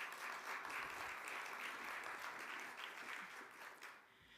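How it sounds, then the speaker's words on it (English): A crowd at the Rutgers–New Brunswick Diversity Progress Showcase applauds as the moderator walks to the stage, sustained moderate clapping that fades out near the end. "Let's give him a round of applause as he comes."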